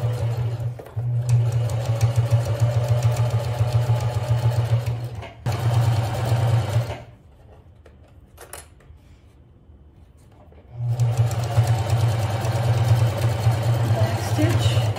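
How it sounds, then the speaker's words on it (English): A sewing machine stitches fabric for a simple bag, whirring in steady bursts with a brief stop in the middle and a quieter pause before it runs again. "So let's go to the sewing machine. I'm going to start to stitch"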